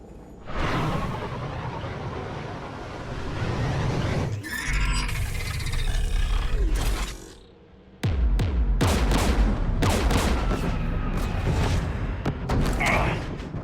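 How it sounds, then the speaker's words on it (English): Geth anti-aircraft guns beside a jamming tower in Mass Effect 3 pound away in rapid bursts, with whooshing flybys and heavy booms, a brief lull, then renewed loud volleys. "The Geth installed anti-aircraft guns beside the jamming tower."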